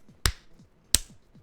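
Two sharp, separate hand claps about 0.7 seconds apart, crisp and fairly close against a quiet background, made by a gamer during a drinking livecast reacting to the E3 show.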